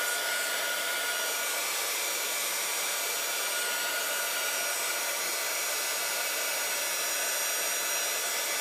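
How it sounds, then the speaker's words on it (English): A heat gun blows hot air onto a craft tag made with distress spray stains, oxide sprays and glaze, giving a loud, constant, even whoosh with no change and no voices. "And my heat gun won't go any closer, so sorry about that."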